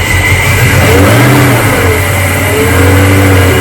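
A Foxbody Mustang V8 with a VMP intercooler catches and revs hard, the loud close-up engine note climbing and falling in steady surges with no talking over it.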